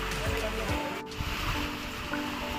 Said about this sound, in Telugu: నంది నోట్లో నుంచి వాటర్ వస్తాయండి ఇక్కడ